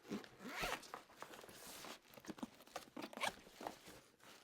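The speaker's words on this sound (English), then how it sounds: "where's the zipper on this?" A zipper on a Fujifilm GFX 100RF camera case is pulled in several short, scratchy bursts, close and fairly quiet, with some rustling of fabric in between.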